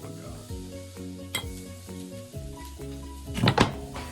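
Onion, carrot, celery and garlic frying in a hot pan for spaghetti bolognese, a soft steady sizzle with clinks of utensil against the pan and a sharper burst of crackling near the end.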